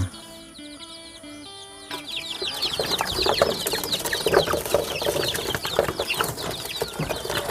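Laying hens and young chicks in a breeding coop cluck and chirp continuously, a dense busy chorus of many birds that grows fuller and louder after the first couple of seconds, with no talking.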